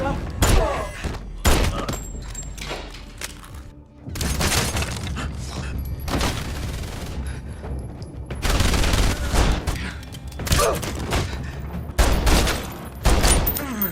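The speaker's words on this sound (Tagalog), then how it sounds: "Pinaputukan ng ilang mga lalaki ang sasakyan at narinig ito ni Garcia" Gunfire rattles through a movie shootout as men fire on a car, with repeated loud bursts and sharp cracks, some shattering and thuds, close and intense, alongside brief moments of talk.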